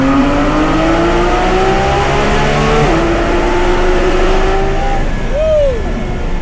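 Porsche 991.2 GT3 RS engine pulling hard from second gear through a tunnel, loud rising harmonic wail with a brief dip at a shift, then climbing again, a short whistle-like tone near the end, no voices.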